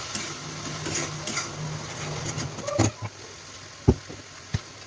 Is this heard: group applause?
no